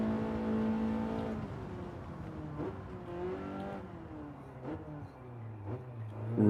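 A racing car in Gran Turismo gears down hard ahead of a braking point after a tunnel, with engine harmonics dropping in steps through several downshifts, then a clearer blip near the end, close and steady with no talk.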